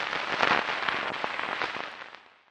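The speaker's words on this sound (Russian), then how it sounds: "треска пленки," Film crackle effect for a horror atmosphere: dense, dry crackling and popping spread over a hissy wash, with sharper snaps scattered throughout, fading out toward the end.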